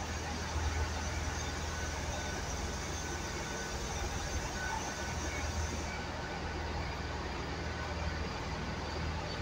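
A steady, broad rumble of a Great Western Railway Class 800 passenger train at Weston-super-Mare station, a continuous mechanical drone with no breaks.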